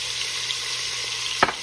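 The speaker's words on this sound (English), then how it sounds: "this is the hardest part, is searing off the chicken." Chicken pieces sear in a pot ahead of making soup, giving a steady hissing sizzle with a brief clunk of stirring near the end.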